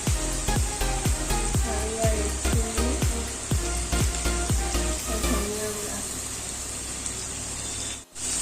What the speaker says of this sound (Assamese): আৰু এতিয়া গোটেইখিনি আদা ৰচুনৰ গোন্ধ নোযোৱালৈকে ভাজিম।